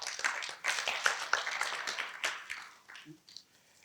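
Scattered clapping from a small audience at a summer school session, thanking student presenters after their presentations; the clapping is moderate and tapers off to near quiet, with some voices mixed in.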